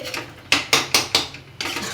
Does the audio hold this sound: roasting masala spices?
yes